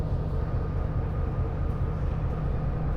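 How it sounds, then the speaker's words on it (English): Steady, loud rumble of a diesel locomotive train running between Odessa and Chisinau, a dense low drone with no clear beats or breaks across the whole stretch. "And you see the locomotive here, it's a diesel locomotive."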